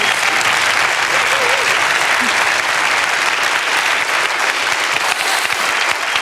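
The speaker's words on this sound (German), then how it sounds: "Ein riesen Applaus," Loud, sustained applause from a studio audience at a TV music show after a live performance, a thick continuous roar of clapping with faint crowd voices beneath.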